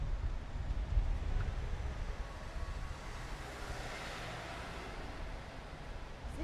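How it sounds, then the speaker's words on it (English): A steady outdoor rumble of wind buffeting the microphone during the Edinburgh Fringe Festival, with a broad low roar and a faint hiss that holds throughout. "And yes, it's very windy."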